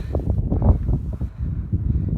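Wind blows across a mountain trail near Hoverla, making a steady, blustery rumble of microphone buffeting with gusty surges throughout and no speech on top.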